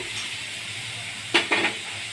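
Peanuts drop into hot oil in a pan while cooking a traditional Maharashtrian bhogi vegetable dish, a steady sizzle broken by two brief louder crackling bursts as they land.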